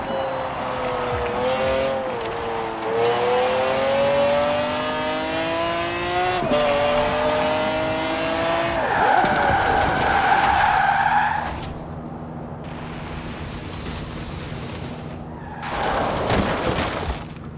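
A race car in Forza Horizon 4 spins out on the last corner, engine revving and wavering as tires screech in long skids, then the engine drops to a lower steady drone before a final squeal.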